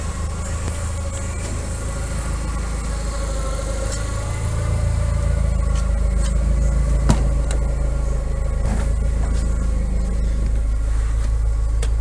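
A car engine idles smoothly and steadily at close range while the car sits on jack stands for a gearbox check, the low hum rising slightly partway through, with a faint tap or two and no voices.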